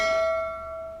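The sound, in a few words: subscribe bell sound effect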